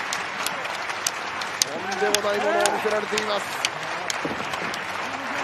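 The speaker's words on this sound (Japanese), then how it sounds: "拍手が鳴り止まない" Audience applause at a pro wrestling match, Takashi Sugiura vs. Masato Tanaka at NOAH Kawasaki 2021: crowd claps crackle steadily with sharp individual claps, under an excited commentator's voice.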